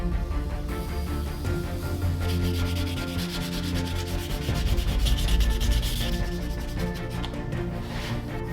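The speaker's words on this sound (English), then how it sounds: "it's time to sand this thing down completely and then apply some finish" Steady sanding of a carved wood sculpture made from patterned wood, with continuous rhythmic abrasive rubbing strokes at close range that swell louder near the middle before easing off.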